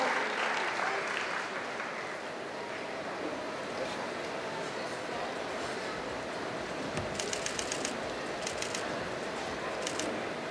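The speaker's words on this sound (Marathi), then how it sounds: "जोरदार टाळ्या एकदा पुनश्च होऊन जाऊ द्या." An audience at a Lokmat awards event applauds at length in a dense, even wash of clapping from a large crowd, with cheering and some voices mixed into it.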